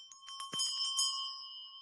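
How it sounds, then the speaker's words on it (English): A bell rings with a bright sustained tone, struck in a quick cluster of strikes and then left to ring out and fade, near and fairly clear. "Ring the bell."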